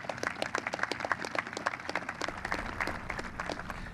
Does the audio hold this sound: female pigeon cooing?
no